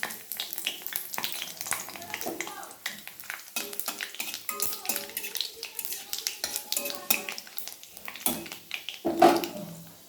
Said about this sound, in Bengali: কড়াইতে আমি সর্ষের তেল দিয়ে দিয়েছি তেল অলরেডি আমার গরম হয়ে গেছে এবারে শুকনো লঙ্কা পাঁচফোড়ন আর তেজপাতা আমি দিয়ে দিলাম